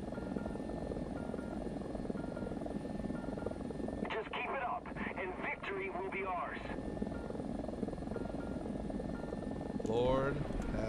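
A Ka-52 attack helicopter flies in a video game, its rotor and engine a steady loud drone throughout, while a player talks over it in the middle and a brief rising whistle comes near the end.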